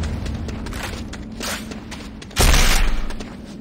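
A structure blows up in the video game Renegade, a sudden loud boom with rumbling debris that swells midway and trails off, following a stretch of steady low battle noise and scattered thuds.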